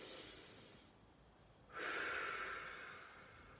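Deep breaths during a morning spine-mobility workout: a long airy exhale fades into a pause, then a sharp, loud inhale or snort follows and tapers off, close to the microphone.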